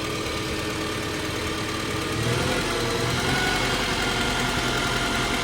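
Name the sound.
Farmall Super-A tractor engine running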